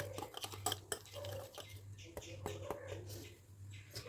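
Unsalted butter whisked in a bowl, rapid clinking and scraping of a metal whisk against the bowl under a low steady hum, with quiet talking.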